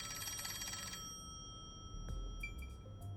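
A telephone rings in the video game Master Detective Archives: Rain Code, a steady electronic trill for about a second that then cuts off, leaving quiet ambient game tones and a few short chimes.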